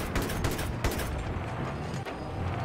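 Gunfire rattles continuously in Battlefield 3 multiplayer on the Noshahr Canals map, a dense, loud run of rapid shots with several sharper bangs standing out and no talk.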